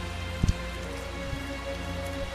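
Steady soft rain pattering in a Tales of Zestiria game scene, a quiet even wash with a couple of brief louder knocks near the start.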